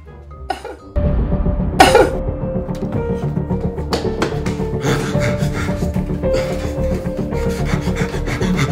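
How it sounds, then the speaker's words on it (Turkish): A few short coughs sound near the start, followed by steady raspy rubbing and scraping noises with scattered taps. "Öksürdüğünü duydum."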